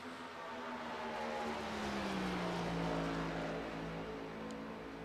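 A race car in a video game at Indianapolis Motor Speedway runs down the front stretch toward the start-finish line. Its engine drones steadily and fairly loud, the pitch falling slowly as it passes, with no voices over it.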